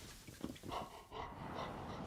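A dog companion in the Beast of Reincarnation video game trailer, panting and giving small whimpering breaths, fairly faint and close, set against a low game soundtrack bed.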